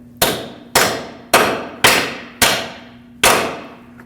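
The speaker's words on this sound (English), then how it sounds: "I'm going to hammer it in." Six loud, evenly spaced hammer blows drive a bolt into a front lower control arm on a 2006-2015 Lexus IS250, each sharp metallic strike ringing briefly before the next, with no talk.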